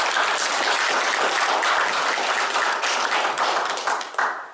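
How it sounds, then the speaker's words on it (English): Steady applause from an audience at a county Republican party meeting fills the room, dense and sustained, tapering slightly near the end. "Let's give them a round of applause."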